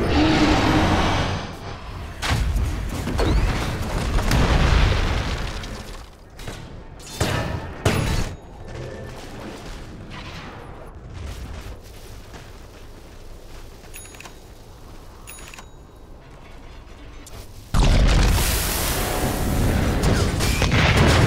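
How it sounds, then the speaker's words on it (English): Booming explosions and rapid attack impacts hit a tower in Dota 2, loud and dense, with bursts of battle noise and a short drop before the clash surges again. "Tower is under attack"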